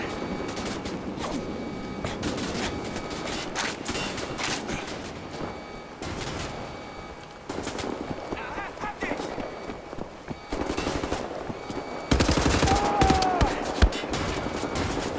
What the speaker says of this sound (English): At least turret works out